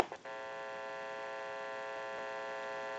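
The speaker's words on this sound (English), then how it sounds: "you may hear a little bit of a hum. That will be the amplifier." A steady electrical hum from the amplifier of an AE Monophone 40 rotary desk telephone on an open line, heard after a brief click at the start, faint and constant with a buzzy harmonic tone and no talking.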